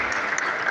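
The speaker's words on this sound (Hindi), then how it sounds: "हम एक बार जोरदार उनकी तालियों स्वागत करें।" Audience applause welcomes a retired Indian Army lieutenant general at a formal Hindi-language introduction event, a dense, steady wash of many hands clapping throughout with no talk over it.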